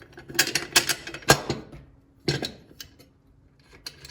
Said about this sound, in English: Just doing hand tight on those lock nuts.